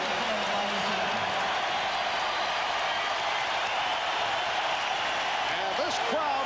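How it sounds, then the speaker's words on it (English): Crowd noise at Madison Square Garden during the 1994 Bulls versus Knicks playoff game, a steady, dense roar that fills the arena throughout, with faint calls rising near the end. "this crowd responding to the Chicago effort"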